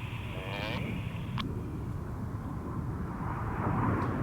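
Aerobatic display jets flying a roll at the 2019 Cosford airshow, a distant broad roar of jet engines under steady wind noise, with no talk heard.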